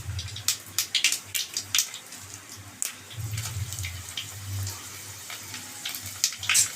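Cumin, mustard seeds and cut dried red chillies frying in hot oil: a soft, close sizzle broken by scattered sharp pops and spits, uneven throughout, with no voices.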